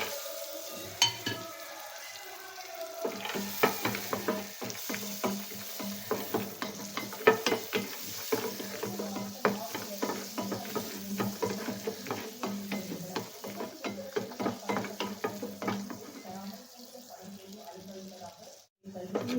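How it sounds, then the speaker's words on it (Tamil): Cashews roasting in butter in a kadai, with steady stirring scrapes and clinks of a spoon against the pan over a soft sizzle, fairly close and continuous for most of the stretch. "முந்திரி வறுத்தாச்சு."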